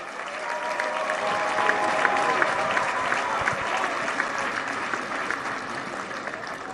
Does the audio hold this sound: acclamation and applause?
yes